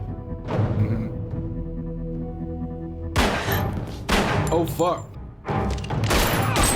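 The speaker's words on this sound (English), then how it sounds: "I heard gunshots." Several loud bursts of gunfire from a scene in the TV drama Fringe come in quick succession after a quieter stretch, with a voice briefly exclaiming between the shots.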